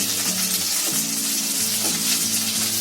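Onion and capsicum stir-fry in a hot pan for chili chicken, a strong, steady sizzle close up, with rhythmic scraping and stirring strokes and a low hum beneath.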